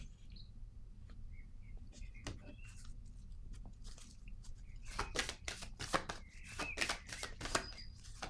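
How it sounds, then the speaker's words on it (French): A playing card is laid down on a table zone with quick papery slaps and flicks, clustered in a short burst after a quiet stretch, with faint chirps in the background. "Je vais déposer une carte sur cette zone."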